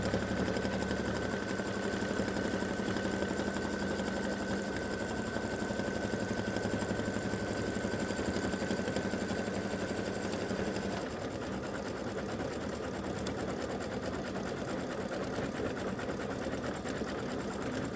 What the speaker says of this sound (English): It's going to stitch the satin stitch along this edge to cover up those raw edges.